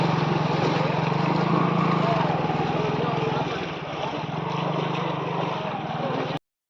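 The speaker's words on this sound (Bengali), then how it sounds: "দেখুন আপনারা কিভাবে বাইকটা যাচ্ছে" A motorbike engine drones steadily as it rides along a flooded road in the Kaliganj area, its low hum continuous and fairly close, with churning water noise and a brief dip in level partway through.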